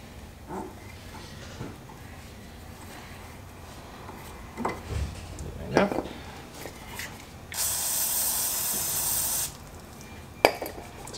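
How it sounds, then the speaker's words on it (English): A WD-40 spray can hisses in one steady two-second burst onto brake line threads on a Mercedes 190E 2.6 Cosworth, amid faint clicks and handling noises. "Some WD-40 to clean up the threads."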